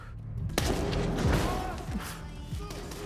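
Gunfire in a TV action scene, a burst of sharp shots and impacts with booming crashes layered over a busy, loud soundtrack, followed by a few separate thuds.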